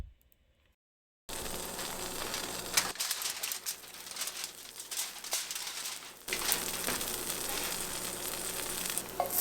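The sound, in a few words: food sizzling in a preheated cast iron pan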